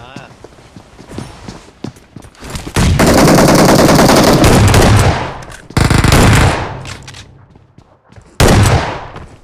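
BGMI gunfire comes in loud, dense automatic bursts, one long stretch of several seconds and shorter ones after, with pauses and lighter clicks between them and a voice talking in places.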